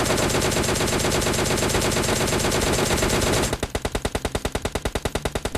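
Automatic gunfire from the PUBG Lite video game: a dense, loud stream of rapid shots, then a clearly separated string of evenly spaced bursts.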